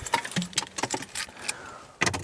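Car keys jangle and click as they are pulled from the ignition of a Smart 453. Quick metallic jingles and taps come in bursts at close range, with a faint engine rumble behind them.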